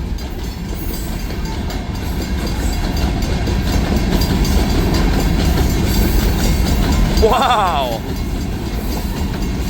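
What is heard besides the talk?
Escanaba and Lake Superior Railroad train moving at speed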